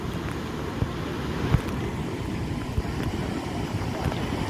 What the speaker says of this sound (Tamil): வான்கதவை திறந்து வெள்ளம் ஓடிக்கொண்டிருக்கு.